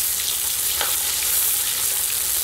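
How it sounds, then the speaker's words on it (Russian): Meat on the bone frying in a kazan for plov, a steady loud sizzle with hissing crackle throughout and an occasional stir, close up and with no one talking. "Мяско обжарилось."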